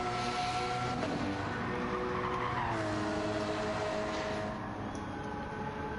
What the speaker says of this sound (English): Got some cars on track heading out